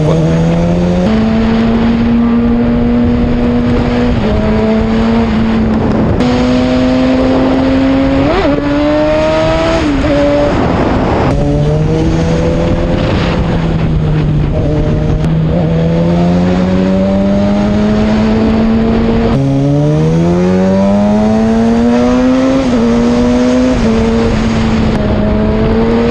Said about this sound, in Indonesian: ini saya menggunakan motor Kawasaki ZX-6R dan memakai knalpot M4